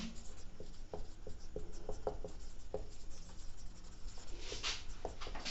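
Chalk or marker tapping and scraping across a board during a chemistry lecture on coordination compounds, a steady run of short strokes at low volume with no talking.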